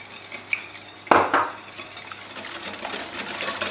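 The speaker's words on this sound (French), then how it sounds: "Et on va mélanger tout ça." Eggs and sugar are mixed in a bowl, with a sharp clatter of a utensil against the bowl followed by quieter scraping and stirring, close and without talk.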